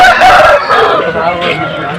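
Chickens and roosters at a Sunday poultry market in Vijayawada crow and cluck loudly and close, among the murmur of people bargaining.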